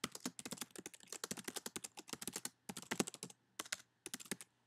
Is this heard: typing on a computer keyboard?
yes